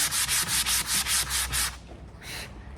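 Hand sanding brush marks off a painted decoupage frame with a sanding block: seven rhythmic, even scraping strokes close up, then a brief pause and one final shorter rub.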